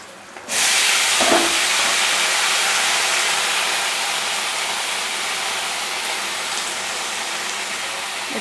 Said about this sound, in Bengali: এবারে আমি পেঁপে আর আলুটাকে একসঙ্গে ভাজা ভাজা করে নেব